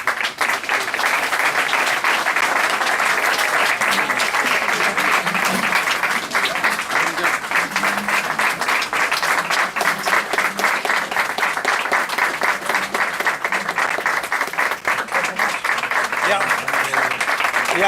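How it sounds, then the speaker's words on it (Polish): Sustained audience applause fills a hall at a solidarity event for Cuba, dense steady clapping continuing throughout without a break. "Ja wolę brawo na końcu, a nie na początku."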